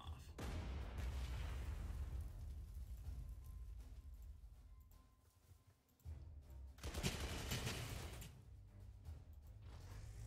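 Artillery and machine-gun fire from an 88 gun attack in the World War II strategy game Panzer Corps II, loud dense bursts and booms with a brief lull, then heavy firing again.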